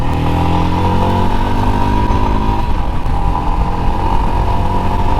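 Royal Enfield Himalayan motorcycle ridden in third gear: a loud, close, steady single-cylinder thrum with a dense low rumble and a mechanical clatter that eases a little midway, no talking.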